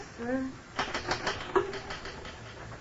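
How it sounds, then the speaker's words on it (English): A typewriter clatters in an old-time radio drama, a rapid run of sharp mechanical keystrikes following a brief spoken voice, recorded with a narrow, dated sound. "Finish typing it and I'll sign it."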